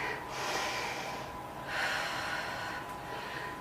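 Heavy breathing during a HIIT workout, two or three long, loud, rushing breaths close to the microphone, each swelling and fading over about a second, with no talking.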